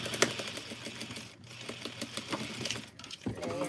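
A sewing machine stitching an undercollar runs in short, uneven bursts of rapid clatter with brief pauses as the fabric is turned at a corner, close and moderately loud.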